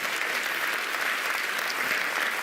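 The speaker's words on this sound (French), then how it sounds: "Yana Aziel, applaudissements s'il vous plaît" Steady, loud audience applause fills the whole moment, a dense wash of clapping from a crowd welcoming performer Yana Aziel, continuous and even without pauses.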